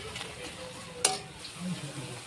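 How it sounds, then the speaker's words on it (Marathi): Ground masala paste frying in oil for an egg curry, a steady soft sizzle and stirring scrape with one sharp click of a spoon against the pan partway through. "त्यामध्ये वाटलेलं वाटण टाकून मस्तपैकी परतून घेऊ।"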